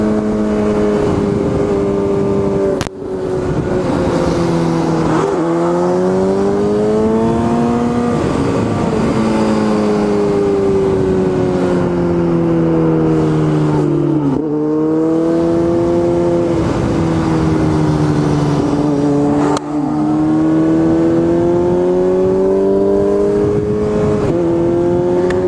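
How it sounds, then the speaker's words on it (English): A motorcycle loudly revs up and down through repeated second-gear wheelie pulls, its engine pitch climbing and falling in long sweeps with brief gaps between shifts over about twenty-five seconds. "Double T's doing second gear wheelies on Emma and getting that big girl up."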